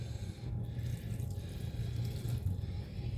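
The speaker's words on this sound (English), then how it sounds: "We're going to add the beef broth." Beef broth pours into a bowl of meatloaf mixture, giving a low, steady wet splashing and trickling that runs the whole time at moderate level, with no talking.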